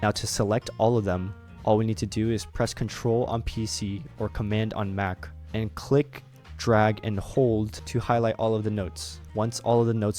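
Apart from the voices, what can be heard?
None of the usual background noises is heard.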